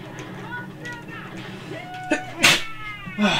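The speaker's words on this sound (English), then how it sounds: "Sneezes." A character sneezes in the Cars Mater-National racing video game, one sharp loud burst near the middle of the clip, followed by a smaller one, over continuous game music and engine background.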